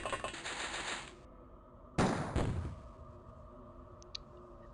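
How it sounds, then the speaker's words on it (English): A grenade launcher fires in the OpenXcom video game with the WH40k mod: a loud rushing blast, a short pause, then a second sharp burst that trails off, followed by faint clicks. "Let's have Pakira use that grenade launcher."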